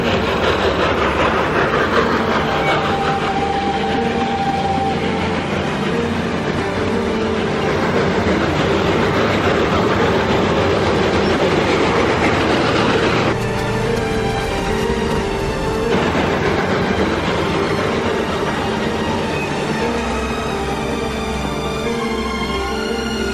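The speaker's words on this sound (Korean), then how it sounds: "그리고 승객을 태운 기차는 무사히 다리를 건너게 됩니다." A passenger train rumbles loudly and continuously across a bridge, a heavy steady roar with rhythmic rail clatter and wheel noise running the whole way through.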